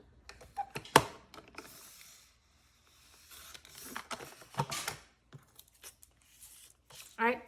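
Paper is trimmed by half an inch for a scrapbook layout: sparse, soft cutting and rustling sounds close by, with a sharp snip early on and quiet gaps between.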